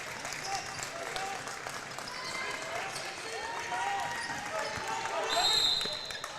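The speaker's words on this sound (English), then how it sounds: "Marshfield fans again applaud with their approval below me." Crowd applause from basketball fans in a high school gym during a boys' game, a broad, diffuse clatter under a commentator's voice, with squeaks and bouncing from the court and a rise toward the end.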